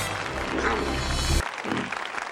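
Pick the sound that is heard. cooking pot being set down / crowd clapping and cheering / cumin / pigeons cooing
crowd clapping and cheering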